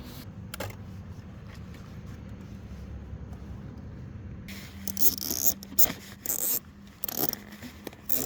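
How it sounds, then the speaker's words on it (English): Cable ties zipped tight around a motorcycle frame and a camel tank bracket: a quiet hum for the first few seconds, then a run of short, close ratcheting zips and scrapes in uneven bursts. "we're going to cable tie it up"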